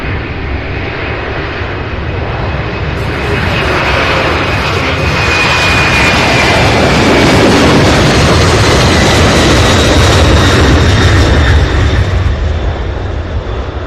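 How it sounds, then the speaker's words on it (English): A UPS Boeing 767 jet at Louisville airport, a loud, sustained engine roar that swells through the middle and stays strong to the end, no voices. "This one here is 767 heading to LAX, Los Angeles, California"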